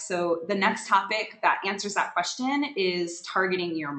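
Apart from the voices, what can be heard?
No distinct noise like a dog, phone or traffic.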